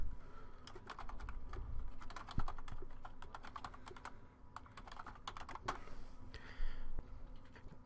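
Typing a contact's first name, last name and email address on a computer keyboard, a quick irregular patter of close, crisp key clicks with brief pauses, quiet and without speech.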